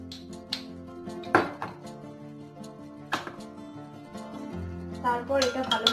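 A spoon clinks and scrapes as aam panna, a raw mango drink, is stirred, with a few sharp, bright taps and ringing knocks of the utensil against its container.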